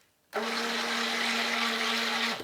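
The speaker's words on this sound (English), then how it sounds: "trial by fire has to be mixed with a stick blender" A stick blender mixing soap whirs at a steady high pitch for about two seconds, then winds down; nearby and loud, no voices.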